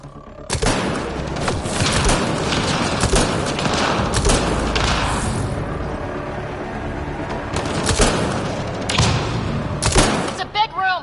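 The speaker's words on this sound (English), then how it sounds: "It's a gunfight in the gun battery then." Heavy gunfight in Mass Effect Andromeda inside a locked gun battery room: dense, continuous volleys of weapon fire and booming impacts, loud and close, with bursts intensifying near the end, under occasional shouted talk.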